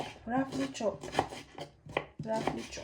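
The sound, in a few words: roughly chopping vegetables with knife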